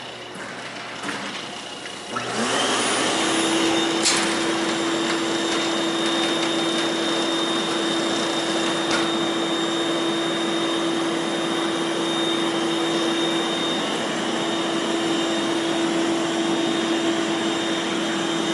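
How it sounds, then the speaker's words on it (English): A shop vac switches on for floor sanding work and runs as a loud, steady whine with a constant hum, continuing alone at full strength after a brief quieter start. "Turn on the shop vac."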